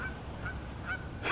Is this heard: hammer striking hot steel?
no